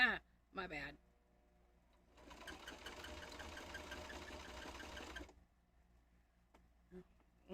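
A sewing machine runs in one steady burst of about three seconds, stitching through a thick bag handle during a home sewing session. Brief voices come just before and after it.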